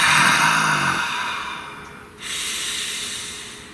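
One slow, deep breath drawn in and released close to the microphone, a long airy rush that fades out and then swells again, alone with no voice.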